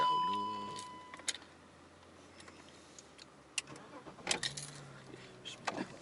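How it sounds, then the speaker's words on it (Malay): A car engine starts at Sepang: a faint crank and low rumble catching partway through, quiet and somewhat distant, with light clicks and a voice nearby. "mari saya start enjin dahulu"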